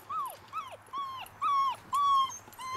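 Young puppies whimper and yip in a string of about six high, sliding cries, close by and fairly quiet, each call rising then falling, with short gaps between them and no talking.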